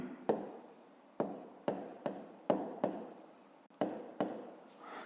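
Pen or marker strokes writing out a fifth-grade math solution, a series of sharp taps and scratchy strokes in irregular rhythm, close and fairly quiet, with no talking.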